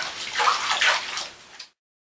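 Shower water runs and splashes at close range for about a second and a half, then cuts off abruptly into silence.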